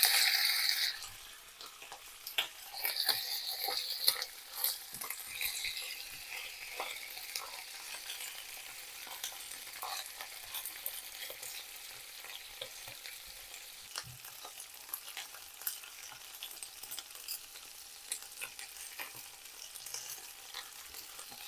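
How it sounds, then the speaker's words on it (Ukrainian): Chicken wings sizzle quietly and steadily in a single layer in a hot pan, with crackling pops and occasional soft clinks of a utensil stirring. "Смажимо, смажимо. Бажано викладати в один шар, щоб вони смажилися, а не тушкувалися."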